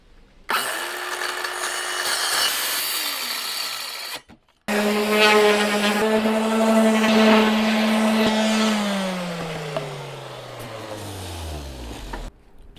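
A power saw cuts a wooden walkway board inside a van, whining steadily for several seconds, pausing, then running again and dropping in pitch as the blade spins down, loud and close with no talk.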